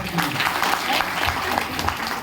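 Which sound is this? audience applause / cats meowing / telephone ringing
audience applause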